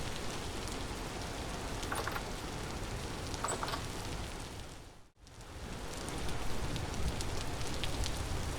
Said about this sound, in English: so it's still raining